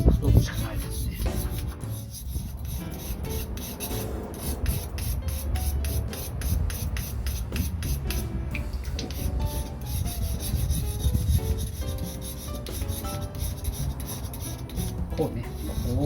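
Felco No.8 pruning shear blade being sharpened by hand, a continuous run of close, rhythmic rasping strokes, pushed with pressure, scraping steadily with a faint voice now and then.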